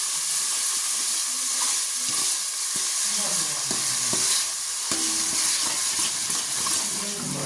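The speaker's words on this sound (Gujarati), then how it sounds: "ટોમેટો તળવા દઈએ" Tomato and chilli sizzle in hot oil with spice masala while being stirred, a continuous close frying hiss broken by repeated spoon scrapes and clatter against the pan.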